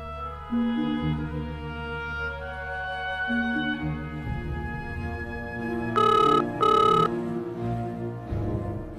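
A landline telephone rings in a Kannada TV serial scene, its electronic tone pattern repeating over a soft musical background, with two louder bursts toward the end.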